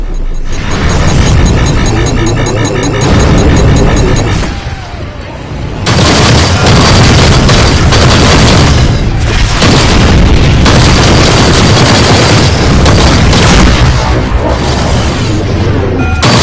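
Missile blasts in a Rebel Galaxy 2 space battle on PS5: loud, heavy booms and rumbling explosions pile up almost continuously, dipping briefly after a few seconds before erupting again, with faint game voices in the mix.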